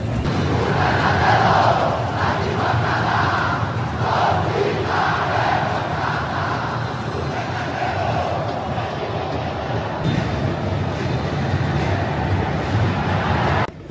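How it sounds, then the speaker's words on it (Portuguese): Football crowd singing continuously in the stands of a Remo versus Paysandu derby final, a loud, dense wall of massed voices with rhythmic chant swells, heard from within the crowd. "a torcida ainda não para de cantar aqui"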